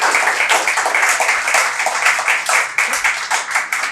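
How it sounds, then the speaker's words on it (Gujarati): Steady applause from an audience at a Gujarati book-introduction talk, dense clapping from many hands held at an even, loud level throughout with no pauses. "બંને વક્તાઓનું ખૂબ તાળીથી આપણે અભિવાદન કરીએ"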